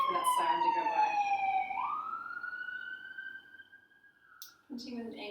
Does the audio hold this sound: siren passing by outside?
yes